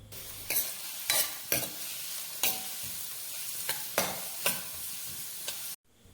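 Finely chopped onions frying in coconut oil in a hot kadai, a continuous sizzle broken by about ten sharp spatula scrapes at irregular intervals, close and alone, ending abruptly.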